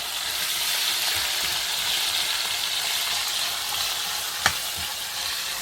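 Salmon fries in a pan with a continuous, even sizzle and crackle, close and fairly loud, with one sharp click near the end and no voices.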